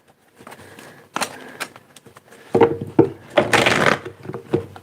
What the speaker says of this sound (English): let me get 3 more shuffles for this bonus here.